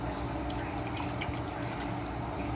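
A 16-ounce bottle of water poured into a bowl of chicken drumstick marinade, a steady splashing gush that is close and continuous throughout, with no talking.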